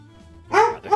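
A puppy in the RogueMon game gives one short bark, then a second softer one, close and alone after a faint electronic hum.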